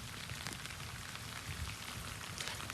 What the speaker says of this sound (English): We talked about that rain coming on and off over the last hour or so, and it just picked up.